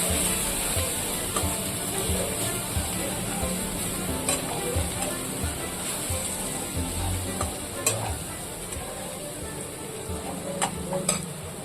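Tomato-based spice paste for a crab curry fries on a low flame, sticking to the pan with a steady sizzle while a spoon scrapes and stirs, giving irregular scraping strokes and a few sharp clicks.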